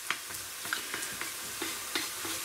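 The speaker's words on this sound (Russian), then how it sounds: "я готовлю уже готовое мясо, это будет очень быстро." Leftover already-cooked meat fries quickly in a pan for a fast lunch, with a soft continuous sizzle and light ticking stirs and taps.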